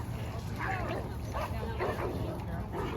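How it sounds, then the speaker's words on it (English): Dogs scuffle at a dog park with short yips, whimpers and barks, somewhat distant and blended with people talking nearby. "So there was an actual dog fight out there."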